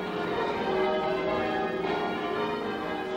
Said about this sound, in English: As a famous peal of bells rings out across the English countryside